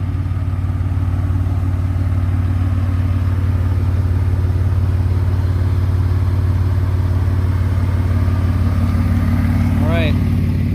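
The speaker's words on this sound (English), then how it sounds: "Car's actually pretty quiet once it's warmed up and idling." A warmed-up twin-turbo V6 Ford Mustang idles close by in a steady, even low rumble with a smooth droning tone. A brief rising whine comes in near the end.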